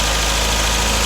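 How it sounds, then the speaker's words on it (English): An MGB GT engine idles fast while warming up after a water pump replacement, a loud, steady, even rhythmic thrum heard close up without voices. "The engine is still warming up, so revving a bit higher, but that's a much better sound,"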